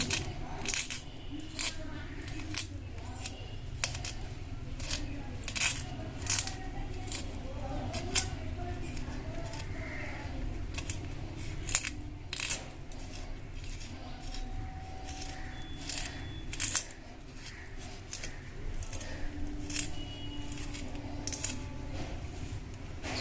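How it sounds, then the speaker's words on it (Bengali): A bonti blade cuts a potato into a spiral, making a steady series of short crisp slicing clicks, close and moderately quiet, with a low hum underneath and someone talking in the background. "মেশিন ছাড়া বটিতে সুন্দরভাবে এইভাবে ঘুরিয়ে ঘুরিয়ে স্প্রিংটা তৈরি করে নেবেন"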